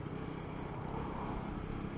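A ZSB motorcycle with a low-RPM problem runs its engine at about 4,000 RPM, a faint, steady, even drone that holds without change and with no voices.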